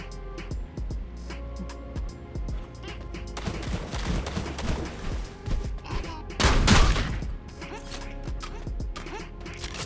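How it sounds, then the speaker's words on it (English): Shotgun fire in the video game Sulfur, a weapon fitted with an attachment that keeps its spread tight: a dense run of sharp game gunshots, loud and close, with a heavier blast cluster near the middle. "this shotgun has very, very little spread"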